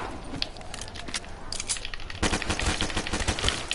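Rapid video game gunfire, with bursts of crackling shots at a fairly quiet level. A denser, steadier volley takes over in the second half, with no talk.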